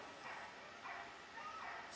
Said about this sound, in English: a bit of barking going on